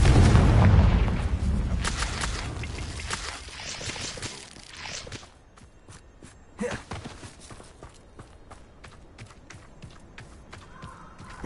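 Confringo fire-blast spell going off in Hogwarts Legacy, a loud booming burst up front that decays into scattered crackles and lighter impacts, with no talk over it.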